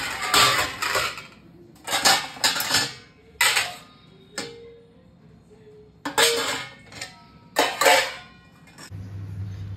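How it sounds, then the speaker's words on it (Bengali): Dishes and pans, including a burnt wok, being scrubbed and washed by hand, heard as bursts of scraping, clattering and running-water noise in irregular clusters with quiet gaps, close to the listener. "তাই এখন বাসনগুলো দেবো মাজতে, এগুলো না ক্লিন করলে তো হবে না"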